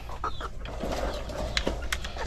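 Chickens, including small Rhode Island birds, cluck and chatter softly at feeding time with layer feed, scattered calls over a low steady background hum.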